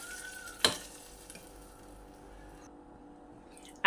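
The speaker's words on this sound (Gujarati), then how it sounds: "આ વઘાર હવે આપણે આની અંદર એડ કરી દઈશું" A hot tempering with asafoetida hits the batter in one sharp, close sizzling burst, then settles into a faint, fading hiss before a brief clatter at the end.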